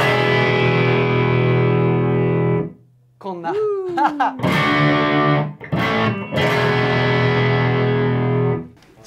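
A 1961 Gibson Les Paul SG electric guitar played through its rear humbucker pickup, loud and distorted, with sustained chords and sliding bends, a brief pause, then more ringing chords; a voice speaks briefly in the gap.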